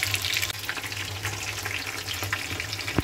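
Chicken pieces frying in hot oil in a kadai give a continuous soft sizzle and crackle, fairly quiet and close, with a brief clatter near the end as they are turned.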